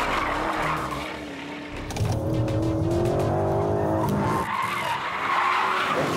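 Tuned high-power SUV, a Lamborghini Urus or Porsche Turbo GT, drifting through a hairpin bend with loud sustained tire squeal over a revving engine, the screech shifting pitch as the car slides, close and continuous.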